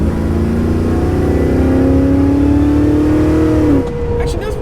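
An LS-swapped HQ Holden pulls hard under acceleration, its V8 note climbing steadily and loudly for several seconds before the revs drop off abruptly and settle into a quieter drone.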